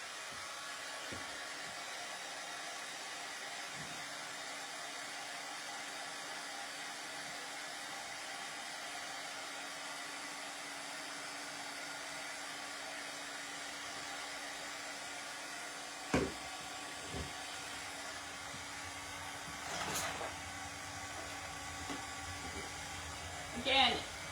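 A hair dryer blows a continuous, even whir to dry a heat transfer on a trucker hat, close and steady for the whole stretch, with a few faint knocks and clicks toward the end.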